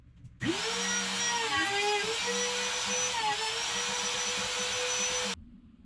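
A wood router cuts hinge recesses into a door on a handyman job, giving a steady high-pitched motor whine that starts abruptly, holds for about five seconds with slight pitch wavers, then stops.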